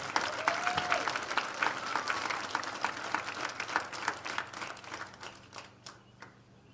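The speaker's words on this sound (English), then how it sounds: "How about a round of applause for your 2023 softball tournament, district tournament, all-tournament team." A crowd at a district fastpitch softball championship applauds the all-tournament team, with many claps blending at first, then thinning into scattered individual claps as the applause fades out.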